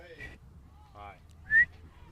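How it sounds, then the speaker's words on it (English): A referee's whistle at a varsity girls' lacrosse game gives one short, loud, sharp blast between stretches of talking. "Whistle is blown."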